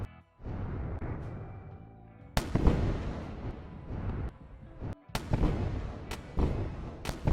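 Ship weapons in the space game Wayward Terran Frontier pound an enemy vessel open: a dense run of booming, crackling blasts with sharp impacts near 2.4, 5.2 and 7.1 seconds over a steady rumble.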